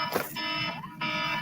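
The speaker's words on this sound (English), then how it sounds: "Sorry, my alarm went off." Electronic alarm going off in a room, a loud harmonically rich buzzing beep sounding in repeated pulses with brief gaps, close and alone.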